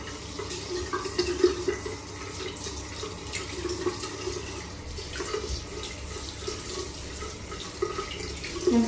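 Tap water runs steadily from a faucet into a sink or basin while a child is being washed, a continuous close splashing flow with small fluctuations and no talking.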